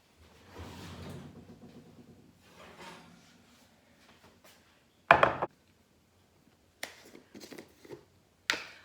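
A baking dish of zucchini is pulled from a home kitchen oven, making a faint scrape and rustle, then a sharp near clunk, followed by a few softer knocks and clatters.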